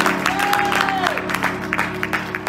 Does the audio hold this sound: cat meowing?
no